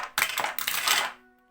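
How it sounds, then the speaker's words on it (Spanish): Dice tumble down a dice tower during a World of Warcraft board game, making a brief, bright rattling clatter that stops quickly and leaves a faint ringing tail. "yo he tirado los dados"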